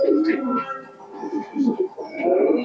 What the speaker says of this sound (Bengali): এটাও গিরিবাজ লাইনের কবুতর।